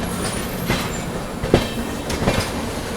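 On Indian rails, the Tamil Nadu Superfast Express train overtakes in parallel with a loud rolling roar, rhythmic clickety-clack wheel beats and a couple of sharp metallic clanks as carriages pass close by.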